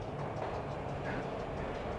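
A train rolls along the rails in the video game Max Payne, a steady rumbling drone with faint rhythmic rattling, continuous and fairly close, with no talking.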